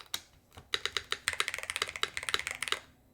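Someone types on a DrunkDeer A75 Ultra keyboard fitted with an ABS spacebar and silicone dampening pieces, giving quick, close, crisp clacks in a fast, uneven run with sharp accented strikes.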